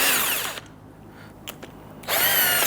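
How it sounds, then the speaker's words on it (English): A power drill with a 14mm socket loosens the brake caliper slide pin bolts on a 2011-2015 Kia Sorento rear brake, whirring loudly in two bursts with a quiet gap between them. "using a 14mm socket to go ahead and loosen our caliper to slide pin bolts"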